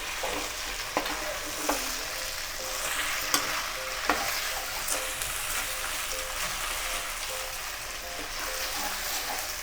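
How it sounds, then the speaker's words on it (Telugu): Chilli chicken stirred in a pan over high heat, a steady broadband sizzle with scattered scraping clicks from the spatula, moderately close and continuous with no talking. "ఇప్పుడు మనం ఐలో పెట్టుకొని చక్కగా కలుపుకుందాం."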